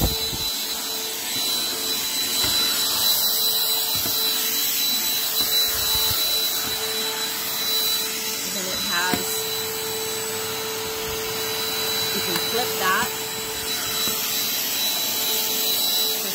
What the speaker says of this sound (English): Here's the Black & Decker handheld vacuum, and I just wanted to show you how powerful it is.